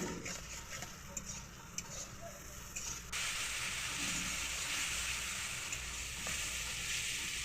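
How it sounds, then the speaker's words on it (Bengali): Spice paste for an okra curry cooks down on low heat with a splash of water, a soft crackling with a few ticks of stirring, then a sudden steady louder sizzle for the rest. "এটাকে একদম কম আঁচে রেখে কষে নিতে হবে"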